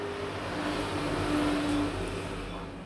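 A noisy motorbike passes outside, its engine a low, steady rumble heard faintly through a room for a few seconds without any talk.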